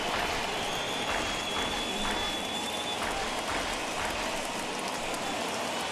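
A baseball crowd of over 39,000 on their feet after a foul ball makes a steady, dense roar of applause and cheering that fills the stadium without letting up.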